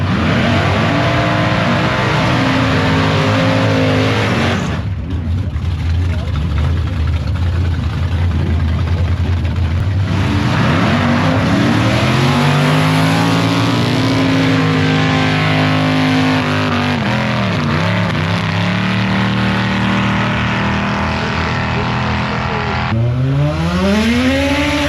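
Drag race cars launch and accelerate hard with wheelspin at a New Zealand drag strip, loud close engines roaring continuously and rising in pitch through repeated upward sweeps over about 25 seconds.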